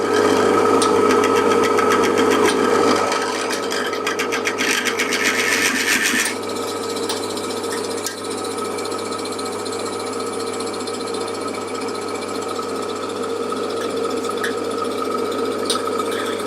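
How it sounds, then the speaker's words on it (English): A hole is drilled right through a piece of timber: a loud buzzing drill motor with a harsh cutting rasp early on, which settles to a lower, steadier whir after a few seconds. "Drill a hole all the way through."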